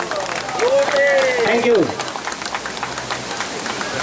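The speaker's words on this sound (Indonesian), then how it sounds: "Iya, mohon tepuk tangannya." Audience clapping at an award ceremony for a cultural honour at a university faculty, a dense steady patter running under a loud amplified voice from a host at the front.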